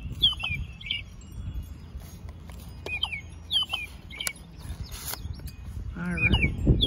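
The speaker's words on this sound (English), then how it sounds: "Here's the sound of our robin." An American robin sings outdoors in a series of clear, fluty caroling phrases, repeated at a moderate distance over soft background ambience and some rustling.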